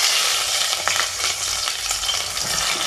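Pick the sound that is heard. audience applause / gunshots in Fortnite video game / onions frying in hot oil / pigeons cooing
onions frying in hot oil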